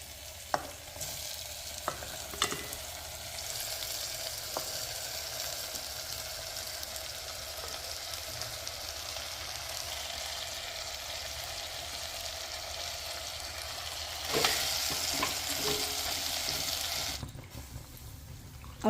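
Vegetables, including okra, sizzle and crackle steadily in a hot clay pot, with occasional scraping stirs and a louder burst of frying near the end.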